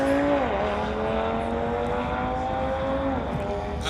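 Engines drone loudly at a street-legal drag race as a 2019 Porsche and a 2018 Audi RS3 launch. A steady, strained tone slides down in pitch twice as the cars shift through gears, with faint crowd noise under it.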